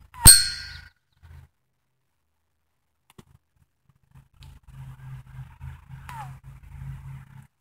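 A flicked rock strikes a railroad-flat bullet with one loud, bright metallic clang that rings briefly, followed by near silence and then low rumbling handling noise.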